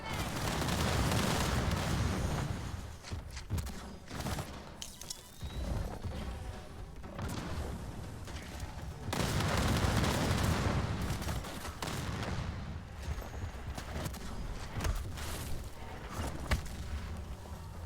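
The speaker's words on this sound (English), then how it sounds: "Throwing grenade." Grenade explosions and gunfire in the shooter Second Extinction: heavy booms and crackling bursts of shots roll on almost continuously, loud and close, with repeated swells of blasts and rattling fire.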